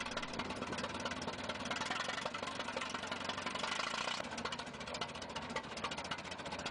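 A vintage International Harvester 8-16 tractor engine with solid steel wheels runs steadily and close by, a dense continuous mechanical clatter with a rapid knocking rhythm, loud and alone with no talk.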